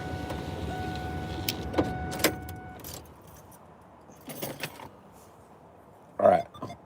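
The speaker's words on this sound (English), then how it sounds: "I'm going to roll down the window and see if you guys can hear the wind." A pickup truck's power window motor whirs steadily as the glass rolls down, then cuts off, followed by quieter cab noise and a few soft clicks and bumps nearby.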